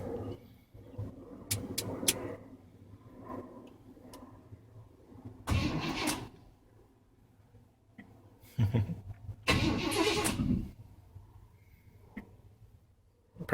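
A 1986 Chevrolet K10 under restoration cranks without starting, probably starved of fuel, with two long bursts of starter grinding separated by quieter clicks and shuffling, fairly distant and unaccompanied by speech.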